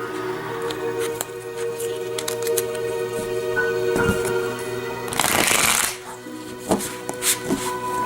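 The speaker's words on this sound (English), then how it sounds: "I'm going to just shuffle one more time and begin the reading for you." Tarot cards being shuffled by hand, with steady soft riffling and flicking plus a louder, dense burst of cards cascading midway, close and quiet with no talk.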